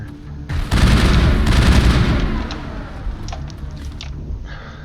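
Sustained volley of gunfire in the video game Mass Effect, a loud dense barrage of rapid shots and booms that swells, holds for about two seconds, then thins into scattered fainter reports.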